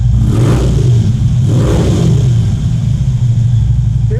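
A Harley-Davidson Road King motorcycle with short mileage, in well-kept condition, idles with a deep, heavy low-pitched exhaust rumble, swelling in two short revs before settling back to a steady loud burble.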